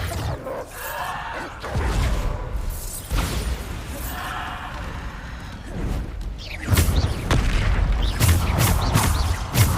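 The Bombarda explosion spell cast in Hogwarts Legacy, several heavy booming blasts with crashing debris, close and loud, repeated irregularly over a busy battle backdrop, growing denser toward the end.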